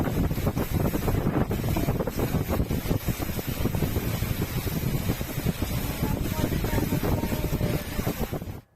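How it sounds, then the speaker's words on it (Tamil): A strong gale with hailstorm rain at Denkanikottai near Hosur, a loud, dense roar of wind and pelting rain with continuous gusty buffeting throughout, fading out abruptly at the end. "ஓசூர் அருகே தேன்கனிக்கோட்டையில் சூறைக்காற்றுடன் ஆலங்கட்டி மழை பெய்தது."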